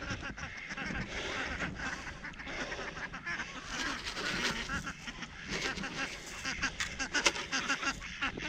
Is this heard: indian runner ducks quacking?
yes